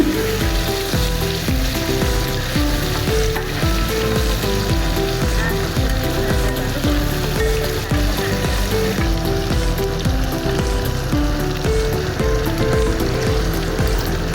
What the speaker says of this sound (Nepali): अब एकछिन चलाउने